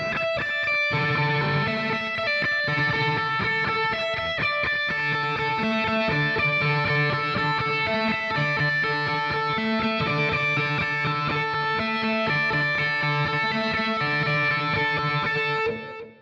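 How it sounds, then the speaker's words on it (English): A distorted electric guitar plays a lead line, repeated picked notes sustaining in a steady melodic pattern over a continuous dense wash, loud and close, ending abruptly. "which is actually a lead guitar part, and it's going to sound like this."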